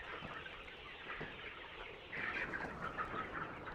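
Local pullet chickens cluck and squawk nearby, growing louder and more agitated as someone tries to catch one in their enclosure.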